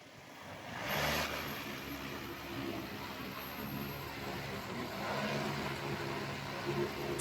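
An X4 10ZS agricultural drone in flight during an attitude test, giving off a steady, fairly loud broadband rotor whir that holds throughout and rises slightly after the first second.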